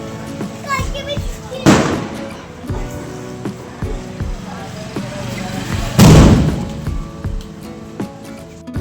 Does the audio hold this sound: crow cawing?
no